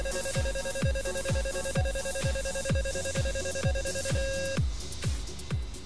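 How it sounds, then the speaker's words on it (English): A stall warning in an A-10C Warthog cockpit in the DCS flight simulator: a steady high electronic tone runs above a regular repeating thump, then cuts out near the end while the rhythmic beat carries on. "You heard me getting the stall alarm there."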